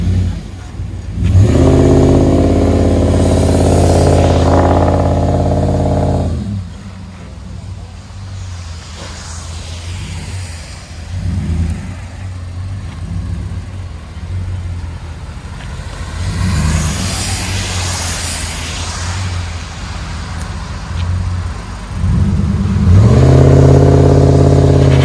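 A 2016 RAM 1500 pickup with a 5.7 HEMI V8 and Magnaflow dual exhaust revs hard in loud, deep bursts, easing back to a rumbling idle between pulls, with people talking faintly in the lulls.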